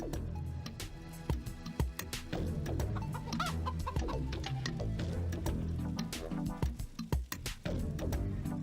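Chicken clucking and squawking in the GameCube game Shrek: Extra Large, busy and continuous with sharp bursts over background game sounds, fairly quiet overall.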